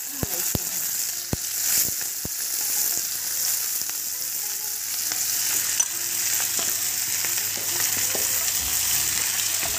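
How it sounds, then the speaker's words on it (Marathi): Mixed winter vegetables for Bhogichi bhaji hit hot oil in a pan, giving a steady, close sizzle with occasional sharp clicks and spatters throughout. "तर हे बघा आपलं तेल गरम झालेलं आहे। तर आता आपल्याला ही भाजी याच्यामध्ये आपल्याला ही सगळी आपण घालायची आहे।"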